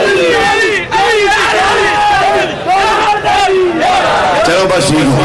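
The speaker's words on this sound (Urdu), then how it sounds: "علی علی نالے باواں اونچیاں کر کر کے نعرے مارندے علی علی علی" Loud voices chant "Ali Ali" in a repeated rhythmic cry at a religious gathering, with forceful bursts rising and falling close by over crowd babble.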